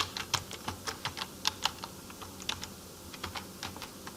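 Fingers type a short group name on a computer keyboard, a quick irregular run of light, close key clicks with brief pauses between bursts, alone without talk.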